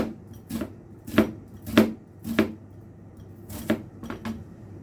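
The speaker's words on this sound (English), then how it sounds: "I forgot to mention a little chopped onion." Knife chopping ordinary onion on a board for a wild garlic sandwich filling: about eight sharp, close cuts in an uneven rhythm, with short pauses between bursts and no talking.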